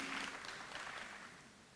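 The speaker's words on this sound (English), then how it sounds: "Let's give her a round of applause, please." Applause for a first-place winner at an Indian Arrival Day celebration in Trinidad and Tobago, a steady wash of crowd clapping lasting under two seconds, fairly quiet and unaccompanied by speech.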